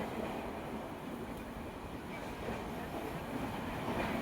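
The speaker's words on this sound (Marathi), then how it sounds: "आम्ही ट्रेन मध्ये बसलोय आता" Inside a moving passenger train on a Pune route, a steady loud rumble of wheels and carriage noise throughout, with faint voices in the background.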